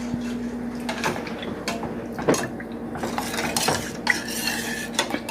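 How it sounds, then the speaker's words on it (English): A spoon scrapes and clinks against a pot as pasta sauce is stirred, making irregular close metallic taps and rubbing sounds with no talking. "And I'm gonna stir this up."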